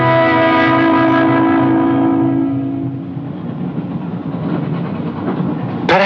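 A moving train in the 1973 horror film Horror Express rumbles steadily with a droning tonal hum, loud and sustained, the clatter thickening midway, no speech.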